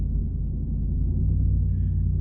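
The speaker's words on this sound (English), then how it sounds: "y'all see the other truck running" A truck engine idles and runs with a steady, low rumble. The sound stays continuous and fairly loud throughout.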